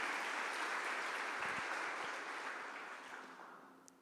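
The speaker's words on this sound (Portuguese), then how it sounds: "Quero que você aplaude ao Senhor para esses dois atores maravilhosos" A church congregation claps together in a sustained burst of applause that gradually fades away over a few seconds.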